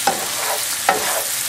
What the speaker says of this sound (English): We're gonna stir everything. We make sure that we combine the onions, the butter, and the Brussels sprout.